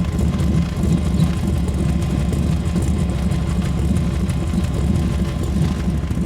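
A 350 V8 in a 4x4 van idles with a lumpy cam lope, a steady low rumbling throb that runs unbroken and fairly close.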